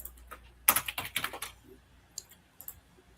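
Quick keystrokes on a computer keyboard while a stock search is entered on a finance website, a rapid burst of clicky taps followed by a few scattered presses, close and clear with no talk.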